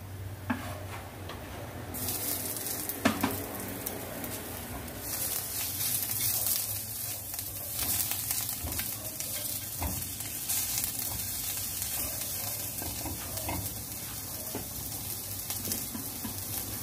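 Chicken liver fries in a little oil for crispy adobo, giving a continuous close sizzle that jumps louder as pieces hit the pan, with occasional stirring clicks and no voices.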